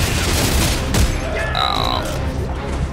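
Gunfire and grenade blasts rumble through a Dead Space 3 firefight in a warehouse, a dense, loud, continuous barrage with a sharp burst near the middle and a voice talking over it.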